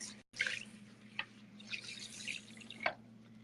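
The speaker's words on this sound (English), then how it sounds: "I wring out as much water as possible before I take my towel to it" Water dripping and trickling as wet hair is wrung out in a bathroom, a few soft spatters and drips coming close and quiet over a low steady hum.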